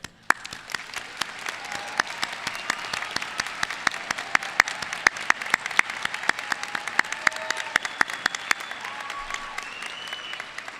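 Sustained applause from a large audience at a high school graduation ceremony, steady dense clapping with scattered sharper claps standing out, close and continuous for the full length with no talk.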